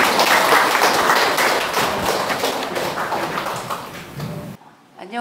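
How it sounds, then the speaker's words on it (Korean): Audience at a literary lecture in Daegu clapping to welcome poet Kim Min-jeong, a dense burst of applause that gradually fades and cuts off near the end. "김민정 시인을 박수로 맞이해 주시기 바랍니다."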